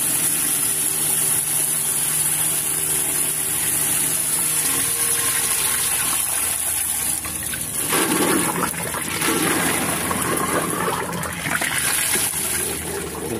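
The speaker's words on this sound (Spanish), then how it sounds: "Esta es la bomba de agua, un buen caudal de agua, una gran alta presión." A solar-powered water pump runs loud and close, pushing a strong, high-pressure flow. Water gushes and hisses continuously with a steady mechanical drone, and the sound swells briefly midway.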